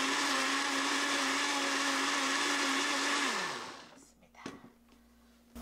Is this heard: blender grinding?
yes